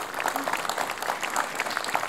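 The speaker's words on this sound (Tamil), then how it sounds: "ஒரு கைத்தட்டல் கொடுக்கலாங்க." An audience claps for a young child at a children's fun show, giving a short, fairly soft burst of scattered applause heard from a little distance.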